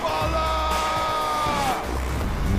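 A wrestler's sustained, intense yell rings out during a televised pro wrestling match, one long strained scream over steady arena crowd noise.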